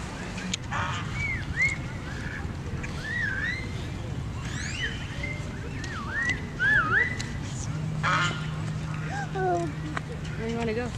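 Geese and ducks being fed at a park: scattered honks and chirpy calls rise over a steady outdoor hum, with faint voices in the background.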